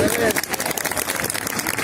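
A rally crowd applauds outdoors in a brief, loud, dense wash of clapping mixed with shouting voices.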